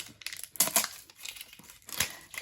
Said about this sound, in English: you actually have to like peel open the cover of each palette